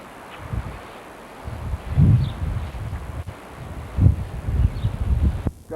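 Spring wind gusting across open farmland, buffeting the microphone in uneven bursts with rustling around it and a faint hiss underneath.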